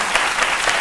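Brief burst of crowd clapping, dense and fairly loud, with many hands applauding at once.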